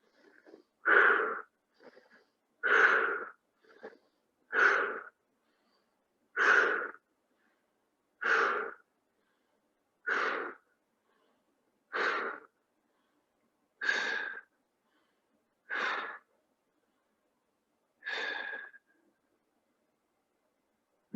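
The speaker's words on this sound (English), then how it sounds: "just close your eyes and breathe deeply and rapidly" Deep, rapid breaths taken during a guided shamanic breathing exercise, eleven loud, evenly spaced whooshing inhale-exhale bursts about every two seconds, close and alone with no talking.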